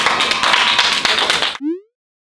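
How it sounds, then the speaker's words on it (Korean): A short burst of dense clapping from a small group rings out, then cuts off abruptly, followed by a brief tonal blip. "박수 한번 주세요."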